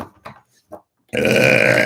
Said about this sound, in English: Spirit makes me burp there